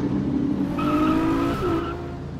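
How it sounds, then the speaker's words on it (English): A Toyota Supra in a game revs its engine as the tires squeal in a rising, sustained screech lasting over a second, loud and close, with the engine drone underneath and no talk. "I like the sound of this car though."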